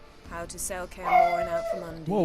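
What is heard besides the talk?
dog barking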